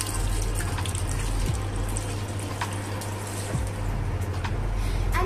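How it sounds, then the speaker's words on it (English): Hands being rinsed under a running tap make a steady, close, full rush of water that flows unbroken throughout. "just cleanse it up with water."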